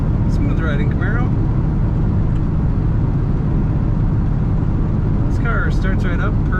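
Steady low drone of a 1978 Chevrolet Camaro on stock exhaust cruising at highway speed, a constant engine and road rumble from inside the car, with short stretches of talking at the beginning and near the end.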